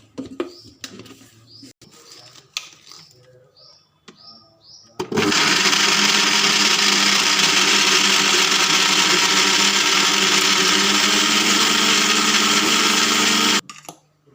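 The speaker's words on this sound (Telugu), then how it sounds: "కొన్ని వాటర్ వేసుకొని పేస్ట్ చేసుకుందాం" After a few quiet seconds with light clatter, a kitchen blender roars on loudly, grinding soaked chana dal and coconut into a chutney paste with water for about eight seconds, then cuts off abruptly.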